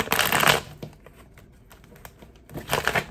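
Tarot cards riffle and shuffle close up in two brisk bursts, with soft handling and tapping of the deck between them, no voices.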